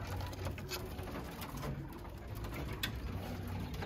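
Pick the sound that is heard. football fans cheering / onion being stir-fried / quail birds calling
quail birds calling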